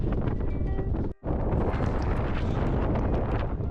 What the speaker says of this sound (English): So much wind, but it's so beautiful.